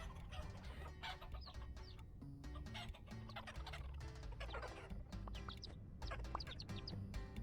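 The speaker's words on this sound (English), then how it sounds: "Hello, chickens." Chickens cluck and chatter continuously in the video game Vintage Story, with several birds calling in overlapping bursts at close range.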